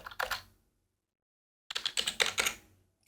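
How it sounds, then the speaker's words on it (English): Typing on a computer keyboard: a short flurry of key clicks, a pause of silence, then a denser burst of rapid keystrokes, close and fairly quiet. "You can type in accountability"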